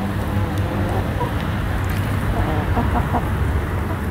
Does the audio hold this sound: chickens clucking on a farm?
yes